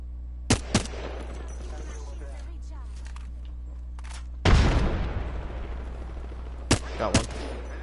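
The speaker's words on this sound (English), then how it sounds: "they're shooting at me" Shooter video game firefight: sharp gunshots crack in short bursts, with a loud booming blast in the middle trailing off, then more quick shots near the end over a low steady hum.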